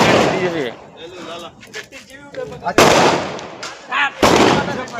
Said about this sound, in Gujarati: આ જો બધા બોમ્બ ફોડી રહ્યા